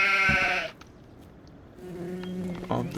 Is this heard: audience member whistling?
no